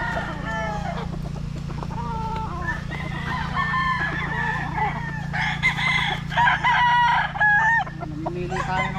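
Sweater gamefowl roosters crow and cluck in a farm yard, several loud crows rising near the end over a steady low background hum, with no talk.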